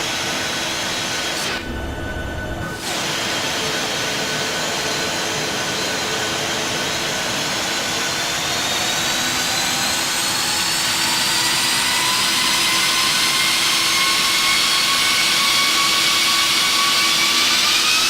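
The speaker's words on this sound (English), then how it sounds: "Set takeoff thrust. Thrust set." Ryanair jet engines spool up to takeoff thrust on the runway, a loud, steady roar whose whine rises gradually and holds for the whole stretch, with a brief dull thump near the start.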